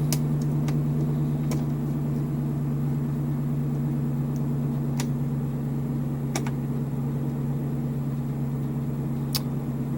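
A Ford E150 van's heater blower fan running, a steady low hum and whir with a few faint clicks over it, continuous for the full duration.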